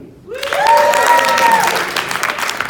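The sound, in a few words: audience applause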